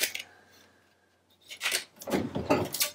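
Scissors cut through brown cardstock in a few short, crisp snips up close, with a quiet pause before a quicker run of cuts.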